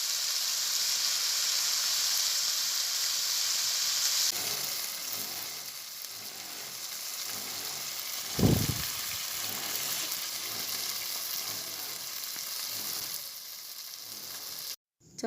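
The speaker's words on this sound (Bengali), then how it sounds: "তার জন্য কড়াইতে তেল দিয়ে 2টো শুকনো লঙ্কা, কিছুটা 5 ফোড়ন আর একটু পেঁয়াজ কাটা দিলাম।" Hilsa fish heads, two dry red chillies, five-spice seeds and chopped onion fry in oil in a wok, a steady sizzle with one brief loud clatter midway, no talking.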